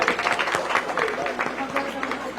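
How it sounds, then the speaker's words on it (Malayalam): Applause for the second-place winner at a prize ceremony: a crowd claps steadily in quick, uneven rhythm, loud and close, filling the short moment without a break. "നല്ലൊരു കൈയടി."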